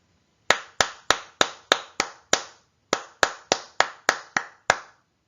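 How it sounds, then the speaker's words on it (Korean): A teacher claps a rhythm with bare hands: about fifteen sharp, close claps in an even pattern, with a brief pause partway through before the pattern resumes. No one speaks. "선생님이 손뼉으로 이 첫 번째 리듬을 한번 쳐볼게요."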